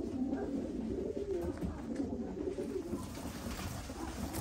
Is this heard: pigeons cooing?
yes